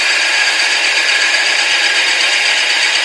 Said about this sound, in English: And as you're drilling it, you can see it.